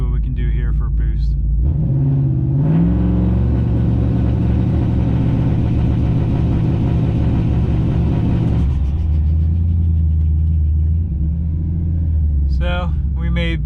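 Car engine with an MSD two-step launch control held steady around 2800 RPM while building boost, a loud continuous droning rumble lasting several seconds, rising then dropping to a lower idle near the end, with brief talk at the start and finish.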